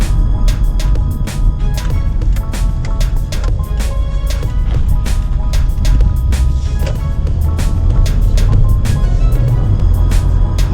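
A small Kia Spectra5 car turns around in a U-turn, its engine and road noise a steady, loud drone with no let-up from start to end.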